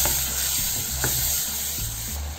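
Ground masala paste with onions frying in oil in a pan for egg curry, a steady broadband sizzle with a few faint scrape and stir sounds, close and moderately loud, no voices.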